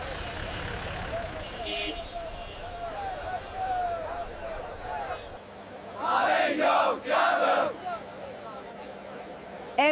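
A dense crowd fills a Cairo street, a steady murmur of many voices with traffic rumbling beneath, swelling into louder bursts of shouting and chatter near the end.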